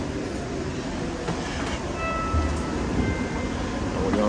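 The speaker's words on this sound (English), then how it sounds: "We're on the train." Train riding toward downtown, heard from inside the car as a steady loud rumble and rattle of the wheels on the rails with faint squeals, no clear talk.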